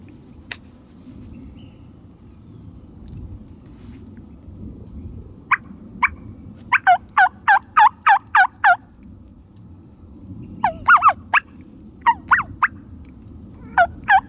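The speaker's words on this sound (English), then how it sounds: "Yeah, we got some turkeys in this field." Wild Rio Grande turkeys gobble in a field, rapid rattling bursts repeated several times at moderate distance over a soft, steady outdoor background hum.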